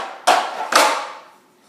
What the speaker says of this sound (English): just a traditional click, which is open, open, close, and it sounds like this.